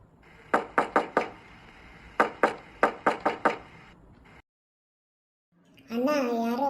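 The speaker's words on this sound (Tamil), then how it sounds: "யாரோ கதவை தட்டுன" Someone knocks on a door in two quick bursts of four and then six sharp, loud raps. A short silence follows, then a voice begins speaking.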